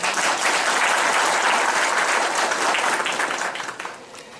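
Loud applause from a panel audience at a memorial gathering in İskilip, Turkey, sustained dense clapping for about four seconds before thinning out at the end.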